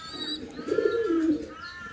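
A yellow Bombay pigeon cooing, one soft low throaty coo close by, with faint chirps from other birds in the background.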